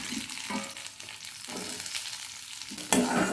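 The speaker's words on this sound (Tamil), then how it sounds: "ஒரு ஸ்பூன் அளவுக்கு எண்ணெய் ஊற்றிட்டு நம்ம பொடி பொடியாக நறுக்கி வச்சுருக்க நெல்லிக்காயை வந்து இதில் போட்டு விட்ருவோம்" Steady sizzle of chopped gooseberries frying in oil, with occasional stirring scrapes, close and continuous, a sharper burst near the end.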